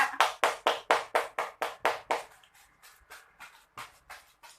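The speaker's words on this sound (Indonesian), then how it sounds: "Beri tepuk tangan untuk Ibu Ida." Participants at a training workshop clap together in a steady, evenly spaced rhythm of about a dozen crisp claps, then a few slower, softer claps trail off.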